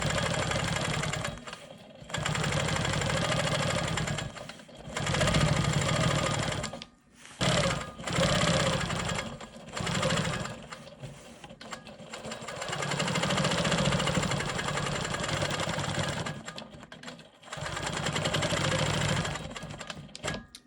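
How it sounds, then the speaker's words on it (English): A Quilt Maker Pro 20 quilting machine stitching in the ditch around a quilt block, running in bursts of steady rapid stitching separated by short pauses, close and moderately loud with no talking. "I'm going to go ahead and stitch in the ditch around the perimeter of this block"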